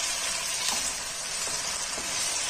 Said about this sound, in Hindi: अब मैं इसको भून लूंगी तकरीबन 2 से 3 मिनट के लिए कि इसका कलर जो है वो चेंज हो जाए